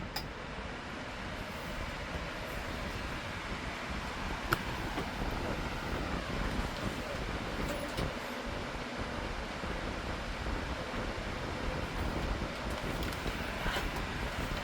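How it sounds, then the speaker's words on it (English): Lasko S18902 18-inch Cyclone stand fan from 2017 blowing air, a steady, close, broadband rushing wind noise that holds evenly throughout, with no talking. "now let's move that fan over there so the wind noise is now picked up"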